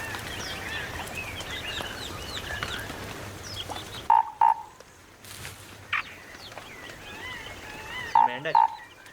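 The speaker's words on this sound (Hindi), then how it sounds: "मेंढक" A chorus of frogs croaks continuously in the background, and a few loud, sharp paired croaks break out nearby at intervals.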